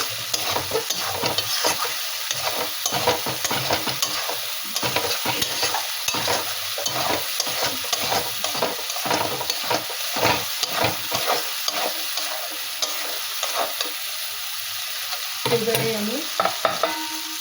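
Spice masala with dry red chillies being sautéed in oil, a continuous hiss of frying broken by steady, rhythmic scraping strokes of a spatula against the pan, close and fairly quiet.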